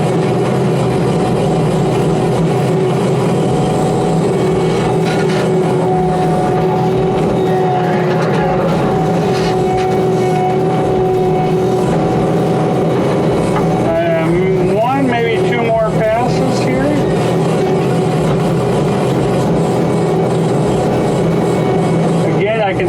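A skid steer stump grinder works through a stump with a loud, continuous engine and cutting-wheel drone. Someone talks over it throughout.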